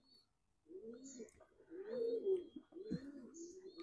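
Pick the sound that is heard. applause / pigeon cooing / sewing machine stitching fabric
pigeon cooing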